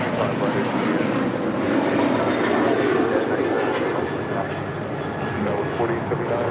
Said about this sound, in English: 2237 taking off to Houston Intercontinental on the 737-800